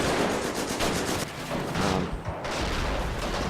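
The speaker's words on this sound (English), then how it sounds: "Another mortar." Battle sounds from Company of Heroes, Europe at War mod, with mortar fire amid the fighting: a continuous loud barrage of gunfire and blasts that crackles throughout, with no talk.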